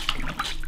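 Ceramic glaze powder is stirred into water, giving a close, continuous liquid swishing and sloshing with a few brighter splashy accents.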